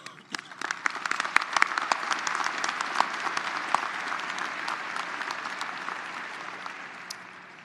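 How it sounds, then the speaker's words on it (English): A graduation audience at Oklahoma State University gives the faculty a loud, sustained round of applause, dense clapping swelling early and holding steady before easing slightly at the end. "Please join me in applauding the faculty for their service to OSU"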